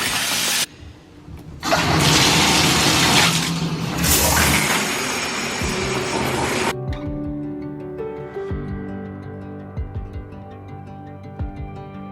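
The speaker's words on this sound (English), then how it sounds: "So let's go have a shower and then I'll meet you back here for skincare." Shower water in an apartment bathroom: a loud spray hiss starts after a brief pause, runs steadily for several seconds, then cuts off, leaving quieter dripping, clunks and pipe or fixture sounds with no speech.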